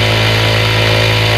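A Jack sewing machine stitching at full speed after its shuttle was smoothed, giving a loud, steady, continuous mechanical whir with a low hum, running alone without pauses.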